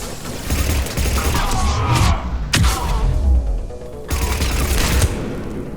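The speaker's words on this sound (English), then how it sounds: "Commander, we're getting a lot of mortar fire." Mortar fire in the video game Mass Effect 3 during the Tuchanka bomb mission: a loud, dense barrage of explosive booms and gunfire, with heavy impacts around two and a half and four seconds.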